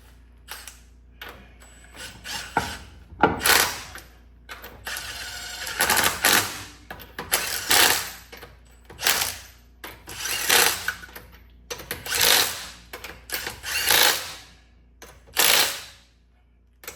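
Lug nuts being run back onto a 12th-generation Ford F-150 front wheel with a ratchet, giving repeated bursts of quick mechanical clicking separated by short pauses.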